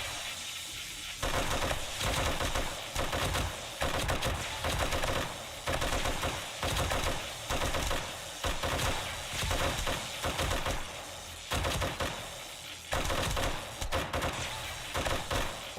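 An M60 machine gun fires in 7 Days to Die, repeated sustained bursts of rapid, loud gunfire separated by brief pauses, spread across the whole stretch.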